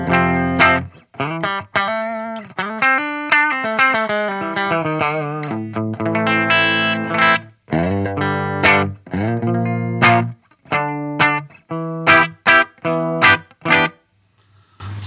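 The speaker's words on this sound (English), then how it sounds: "So this is voice 1 modern on clean." An Epiphone Prophecy Les Paul electric guitar tuned to drop D plays through a clean channel: rhythmic chords and single notes, with sustained passages and then sharper staccato stabs, close and loud with no talking.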